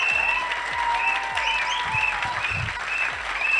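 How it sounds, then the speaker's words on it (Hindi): An audience breaks into strong, sustained applause at a direct selling motivational event, with dense clapping that holds steady throughout and a few voices faintly mixed in. "तालियां जोरदार बजाना सर के लिए।"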